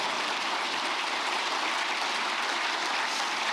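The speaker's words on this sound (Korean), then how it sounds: "이럴 때 박수도 한번 하세요." An audience at a speech claps in a steady, even wash of applause, fairly distant and soft, with no voices over it.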